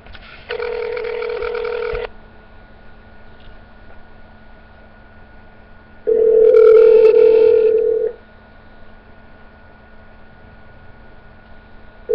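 Two loud, steady telephone tones, each lasting about two seconds and separated by a gap of quiet line hiss, like a dial tone or network signal heard up close on a phone line.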